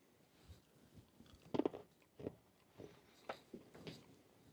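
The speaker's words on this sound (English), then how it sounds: "let's check out this chewing gum" Two pieces of xylitol gum from a Finnish Defence Forces 24-hour ration being chewed, giving soft, close crunches and wet mouth clicks in irregular bursts, quiet and with no talking.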